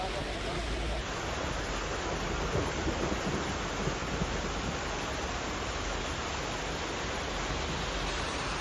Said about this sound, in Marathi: मुंबईत तुफान पाऊस कोसळतोय।